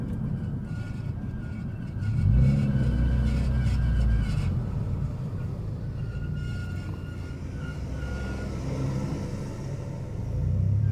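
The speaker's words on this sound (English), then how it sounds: "there's a tractor coming." A tractor approaches on a road as a low engine rumble, rising and swelling nearby then easing off into a steady drone, with no talking.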